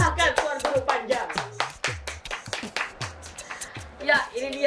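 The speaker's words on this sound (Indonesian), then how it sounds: "Sebut saja dengan tepuk tangan yang meriah" A talk show audience claps to welcome a guest, a run of distinct hand claps with a rhythmic, uneven pattern heard over voices talking through it.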